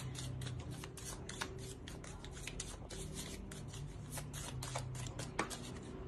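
Tarot cards are handled, shuffled and drawn close by, a continuous run of crisp riffling and sliding card sounds with frequent sharp flicks over a low background hum.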